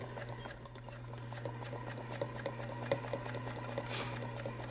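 A Featherweight sewing machine stitches steadily through a chained hexie quilt piece, its motor humming continuously under a quick, even ticking of the needle, close and moderately quiet with no talking.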